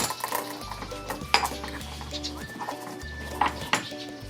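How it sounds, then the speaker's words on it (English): Black pepper crushed by hand with a mortar and pestle: repeated clinking taps and grinding scrapes, close and fairly quiet, with background music over it. "I use a mortar and pestle. Again, just need a little bit of pepper inside."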